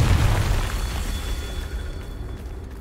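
A Confringo blasting spell explodes in Hogwarts Legacy, a loud booming burst that rumbles heavily at once and then slowly fades over a few seconds, with no voices over it.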